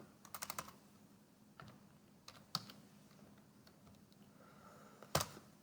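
Typing on a computer keyboard while entering a name into an online budget form: sparse, quiet key clicks, a quick burst early on, scattered single taps, and a sharper click near the end.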